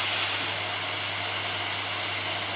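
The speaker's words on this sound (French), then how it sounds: "On va placer l'aspirateur comme ça. Donc l'aspire tout clair." A vacuum cleaner draws air out of a vacuum storage bag of packed clothes, a loud, steady rushing hiss with a constant motor hum, close and unbroken, with no one speaking.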